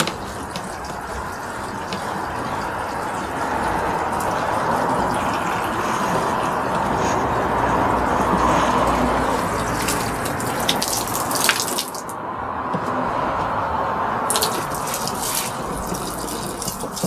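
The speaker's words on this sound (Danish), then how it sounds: "så lukker vi noget vand ud af beholderen" Water being released from a container in a pyramid-building demonstration, a steady close gushing and splashing flow that continues for over fifteen seconds with a short dip midway.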